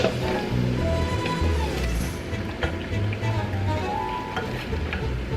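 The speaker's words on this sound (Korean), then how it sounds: "조림 같은 게 은근히 시간이 걸려요. 약간 졸여질 때까지 뒤적거려줘야 되거든요" A braised dish simmers and sizzles in a pan while a spoon stirs it, giving a steady bubbling crackle with occasional scraping clicks, close and continuous.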